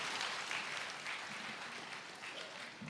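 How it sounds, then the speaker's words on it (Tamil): Audience applause at a Tamil comedy pattimandram debate: a dense, steady wash of many hands clapping together, fairly loud and continuous for the whole stretch, with no talking over it. "அவருக்கு ஏன் இவ்வளோ கைதட்டு?"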